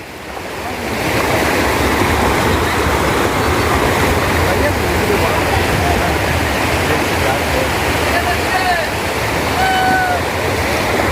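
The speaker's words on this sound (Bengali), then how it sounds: "স্পিডে জল আইছে দেখুন 30 মিনিটের ভিতরে জলটা এখানে হয়ে গেছে তার মানে খুব বেশি আরে বহুত বেশি স্রোত" Floodwater rushes past with a strong current, a loud, continuous roar of churning water that swells in within the first second and holds steady, close and unbroken.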